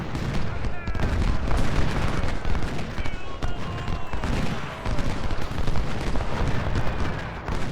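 Dense, continuous gunfire from the Civil War strategy game Ultimate General: Civil War, with overlapping musket volleys and distant booms forming a loud, sustained battle roar, with talk mixed in.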